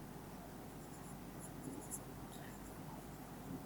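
Pen or pencil scratching out maths working on paper, a faint continuous scribbling with light taps and strokes, close and quiet.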